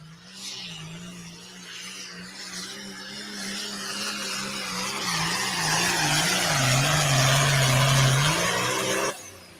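A John Deere pulling tractor named Wild Side, from Schleswig, Iowa, roars through a pull, its engine droning loudly and steadily as the pitch wavers and climbs over several seconds before cutting off sharply.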